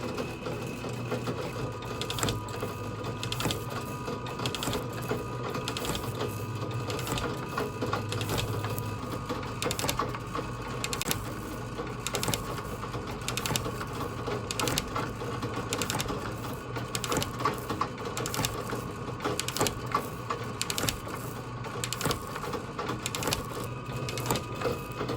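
A metal shaper cuts a carbide insert tool holder in steady, rhythmic strokes, a regular clatter and scrape repeating at an even pace for the whole stretch with no voices.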